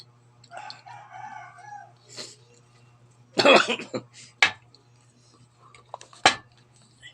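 Several sharp coughs from a two-week-old lingering cough, a cluster of hacking bursts then two more isolated ones, close by, with quiet speech earlier and a steady low hum underneath.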